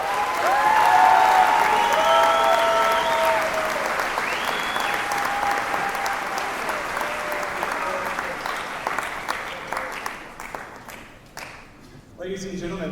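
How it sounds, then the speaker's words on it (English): A school band concert audience gives a loud, sustained round of applause, dense clapping that slowly thins and fades toward the end, with a voice speaking over it. "So let's give them another round of applause."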